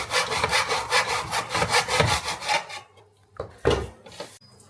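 A borrowed miter saw cuts through wood in a steady run of rasping strokes, then stops, followed by a few scraping knocks and brief handling noises close by.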